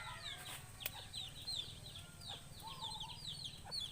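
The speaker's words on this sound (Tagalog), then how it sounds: "Tapos yung sisiw, ayan, nahiwalay." A chick peeps in short, high, repeated chirps over a steady low hum, close but faint, with a few sharper clicks mixed in.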